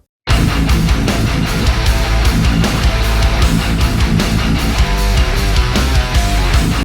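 A full metal band mix plays, with a snare drum cracking on a steady beat; the snare sounds weak, thin and light against the dense guitars.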